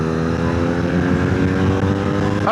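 A BMW R nineT motorcycle pulls along a dual carriageway, its engine a loud, steady harmonic drone with wind rush that climbs slightly in pitch at the very end.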